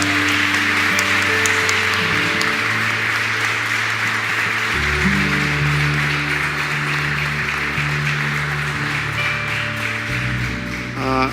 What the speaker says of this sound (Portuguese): Gente, vamos aplaudir Jesus na vida do pastor Ronald?